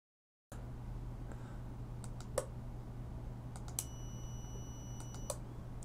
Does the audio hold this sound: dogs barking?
no